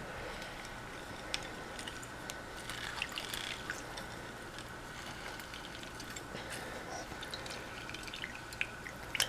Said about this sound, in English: juice 1 whole lemon or 1 whole lime